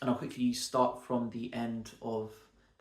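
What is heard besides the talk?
No everyday noises stand out.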